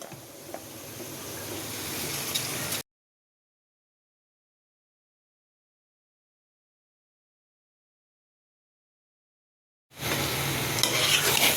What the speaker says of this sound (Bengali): মুসুরির ডাল, তিনটা ডাল আমি সুন্দর করে সটে করে নিচ্ছি।